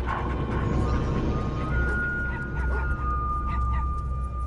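A city dog whimpers and yips in short, uneasy bursts over a loud, steady background rumble, while a voice talks over it.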